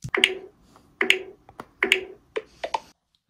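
An iPhone VoiceOver three-finger swipe sound on iOS 16.2: short, crisp clicking taps in quick pairs, repeating about four times with brief pauses, clean and close with no talking.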